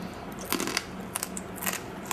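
A few crisp crunches from biting into a fried scorpion with its venom removed, served as a snack, sounding as close, sharp crackles in short bursts with quiet pauses between them.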